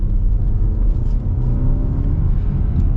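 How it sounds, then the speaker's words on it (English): A 2024 Hyundai Tucson accelerates, a steady loud engine rumble and whir from inside the cabin, continuous for a few seconds with no talking. "Then we'll get an acceleration, and yeah, I mean it's solid, that's for sure."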